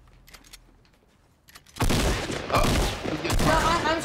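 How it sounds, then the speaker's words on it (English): Fortnite gunfire aimed at a player's build starts after quiet in-game sounds and footsteps, becoming a sudden, loud, dense volley of rapid shots. "I'm shooting a build."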